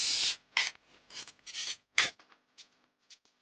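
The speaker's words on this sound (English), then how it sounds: "we scrape the sides" Drywall knife scraping excess joint compound off the sides during a bathroom renovation, heard as several short rasping strokes close up, the later ones fainter.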